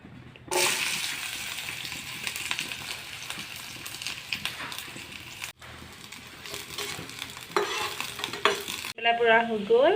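Onions and a little potato frying in oil, stirred in a pan, a steady sizzle broken by scraping stir strokes, close and moderately quiet, with a brief clatter near the end.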